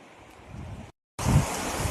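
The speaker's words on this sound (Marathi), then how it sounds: "साधारण पावसानं खळखळ नदी वाहिली." Rain-swollen river rushing in flood after unseasonal rain, a broad turbulent water roar that cuts out briefly and then returns louder and nearer.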